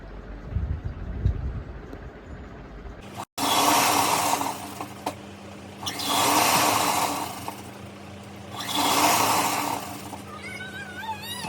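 A sewing machine runs three separate bursts of straight stitching across a quilt made from old saris, each a steady close whir of several seconds with quiet pauses between, after a brief earlier stretch of softer handling noise.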